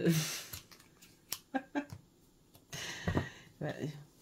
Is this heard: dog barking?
no